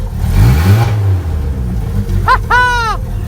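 A 1997 Chevy S10 with a swapped engine cranks and fires up with a brief low rumble, followed by an excited voice calling out near the end.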